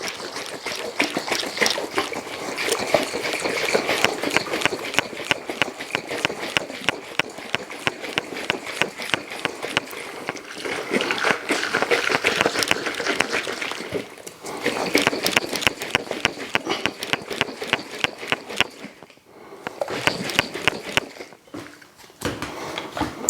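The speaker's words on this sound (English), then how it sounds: "I can close it and then shake it." Honey and water sloshing inside a capped bottle as it is shaken, a dense run of rapid rhythmic splashing pulses that stays loud and close for most of the time, with a few brief pauses near the end.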